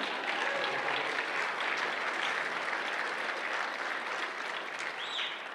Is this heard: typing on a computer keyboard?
no